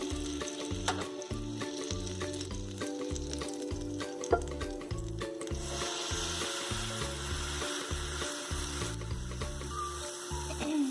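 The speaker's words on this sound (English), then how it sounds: "you let that butter just cook like that" Butter sizzling steadily in a hot pan before pancake batter made with oat flour goes in, a continuous close frying hiss with faint scraping and clicks over a low rhythmic mechanical hum.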